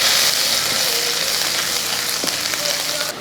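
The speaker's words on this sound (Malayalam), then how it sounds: "എണ്ണ ചൂടായതിന് ശേഷം ഒരു ടീസ്പൂൺ അളവിൽ ചെറുതായിട്ട് കൊത്തി അരിഞ്ഞ് വെച്ചിരിക്കുന്ന വെളുത്തുള്ളി അതങ്ങോട്ട് ഇട്ട് കൊടുക്കാം" Chopped garlic and ginger frying in hot oil, a steady close sizzle with crackling that continues throughout, broken by a few faint scraping stirs.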